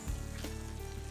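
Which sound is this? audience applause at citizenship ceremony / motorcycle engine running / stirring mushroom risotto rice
stirring mushroom risotto rice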